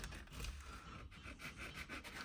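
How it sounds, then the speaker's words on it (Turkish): Steady back-and-forth rasping of sandpaper laid on a flat surface, sanding a hair dryer's carbon brush, close and continuous with rhythmic strokes, no voices. "şöyle düz bir zemine şöyle bir zımparayı koyup"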